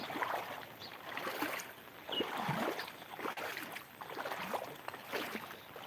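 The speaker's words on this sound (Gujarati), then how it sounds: "ચાલુ વરસાદ છે હજી" Heavy rain falls while water flows and rushes across the ground outdoors, making a continuous, moderately distant wash with surging swells and no clear voices.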